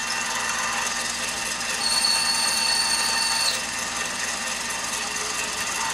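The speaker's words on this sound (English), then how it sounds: "Just going to deburr it." A Lyman Case Prep Express deburring a brass cartridge case hums steadily as a motorized tool, with a thin high whine rising for about two seconds in the middle while the tool bites the case mouth.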